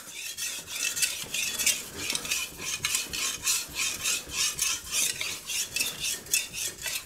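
A Shun cleaver is drawn across a whetstone in regular back-and-forth strokes, producing a rhythmic scraping rasp, close and steady, with no voices.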